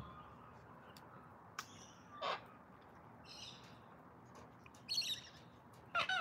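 Australian sulphur-crested cockatoos let out several loud, harsh squawks at irregular intervals, each a short raspy burst standing out against quiet outdoor background noise.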